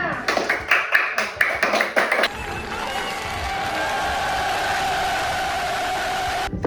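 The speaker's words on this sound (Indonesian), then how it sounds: "Tepuk tangan untuk kita semua." A classroom of students clapping hands, a burst of quick, fairly loud claps for about two seconds that gives way to a steady murmuring room tone.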